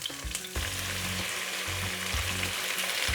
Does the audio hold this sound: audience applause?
no